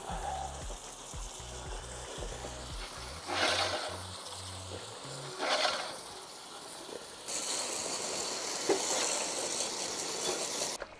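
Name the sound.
washing paste and cleaner off a cylinder mower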